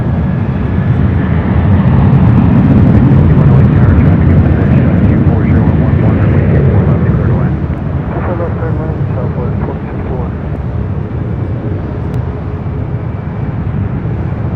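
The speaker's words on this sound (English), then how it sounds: "This is Delta Airlines 789 taking off to San Francisco on a 737-800." Delta Air Lines Boeing 737-800 taking off from LAX, a loud, broad jet engine roar that swells and then slowly recedes, with airport ambient noise around it.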